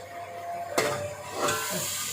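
Bay leaves with ginger-garlic paste sizzling and roasting in a hot pot for chicken pulao, giving a steady close hiss with sudden louder bursts of frying as ingredients go in, and no speech.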